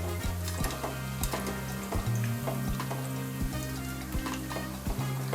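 Rava vada, a semolina fritter, fries in hot oil in a pan with a dense, continuous sizzle, and light scraping and stirring knocks recur throughout.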